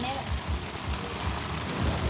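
Steady rain falling outdoors, a dense, even hiss throughout, with a voice talking faintly underneath.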